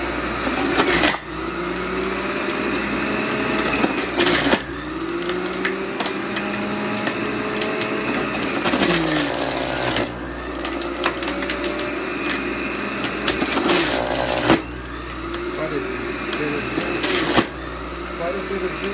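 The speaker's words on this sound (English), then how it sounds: "going to juice the sweet potato first. On my juicer" A juicer grinds sweet potato with a steady motor whir. Sharp crunching bursts come every few seconds as pieces are fed in, close and loud.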